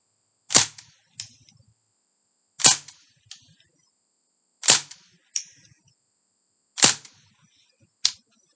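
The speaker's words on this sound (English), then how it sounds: "And we're going to give this a couple of shots now." A Crosman Bushman MPW full-auto CO2 BB gun fires as sharp, close pops. Each main shot comes at roughly two-second intervals and some are followed by a fainter echoing snap, with quiet between them.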